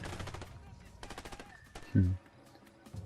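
Gunfire rings out in the video game A Way Out, a burst of rapid shots in the first half and a single heavy low boom near the middle, with talk going on underneath.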